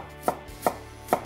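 A knife julienning carrot on a cutting board gives three crisp, evenly spaced chops, close and clear, alone without speech.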